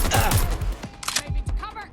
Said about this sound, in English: Getting shot at here.